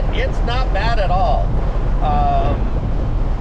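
Steady wind rumble buffets the microphone throughout while driving a C8 Corvette with the top down and side windows up, with a person speaking briefly over the blustery roar.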